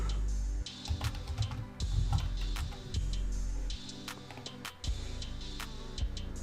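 Typing on a computer keyboard, irregular quick key clicks and taps, close and light, with a steady low hum underneath and no voices.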